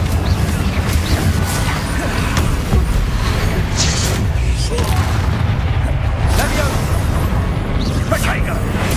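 Confringo spell blasts in Hogwarts Legacy land as booming bursts inside a loud, dense fight mix, with a voice talking over the noise.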